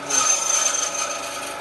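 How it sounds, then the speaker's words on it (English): A chisel or cutting tool works a mortise into a wooden rail, giving a short, close, rasping scrape that fades out gradually. "I'm just cutting out the mortises here now on the rails."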